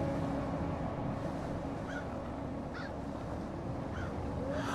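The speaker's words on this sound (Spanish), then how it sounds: "Hay más cuervos" Crows in the Winter Survival video game give a few short, scattered caws spaced seconds apart over a steady, windy background hiss.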